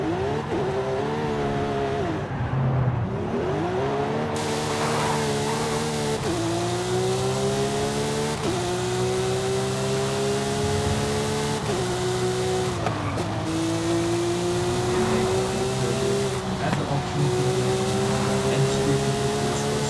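A rebuilt Porsche 992 GT3 being driven hard, its engine revving loud and close, climbing steadily through the gears with brief dips at each shift over a continuous road rumble.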